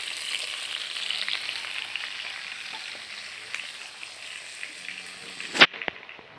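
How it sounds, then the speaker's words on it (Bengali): Fish frying in a pan sizzles and crackles steadily at close range, with faint stirring or scraping sounds, ending in a sharp clatter near the end. "আমার মাছ ভাজা হয়ে গেছে"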